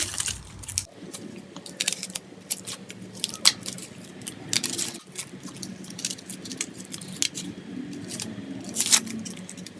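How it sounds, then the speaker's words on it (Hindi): An onion is cut into slices in a home kitchen, giving a series of close, crisp, irregular cutting and crunching taps over a low background hum. "यहाँ मैंने लिया है प्याज। इसे हम पहले काट लेंगे।"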